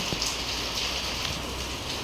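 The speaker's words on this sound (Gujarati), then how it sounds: "ધીમે ધીમે વરસાદ આવે છે" Light rain falls steadily, a soft continuous hiss with faint patters of drops landing on a nearby surface.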